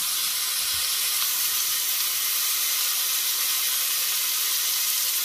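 Oxtail pieces sizzle loudly and steadily in a hot pan right after being flipped, making a dense, continuous hiss of frying with no talking.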